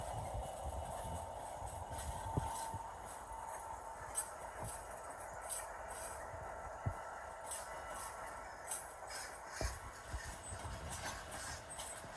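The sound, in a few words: class 319 electric train approaching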